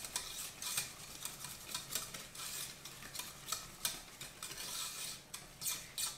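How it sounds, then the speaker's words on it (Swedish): A utensil stirs brownie batter together with butter in a bowl, giving rhythmic scraping, rubbing strokes that repeat steadily, close and fairly quiet with no speech. "Som jag blandar runt tillsammans med smöret."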